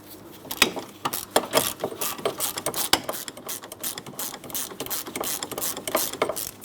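Bolts on a rear wheel hub and bearing assembly of a 2003-2007 Cadillac CTS being run in, giving a steady rapid clicking of a ratchet wrench with short bursts and pauses, close up and with no talking.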